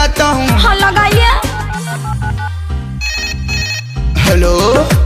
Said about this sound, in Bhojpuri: अभी मैं फोन लगाता हूँ